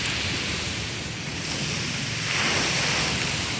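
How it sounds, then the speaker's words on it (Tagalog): Waves wash in and surge through during a typhoon, a loud, continuous roar of churning water mixed with heavy wind buffeting the microphone. "Pumasok ang alon."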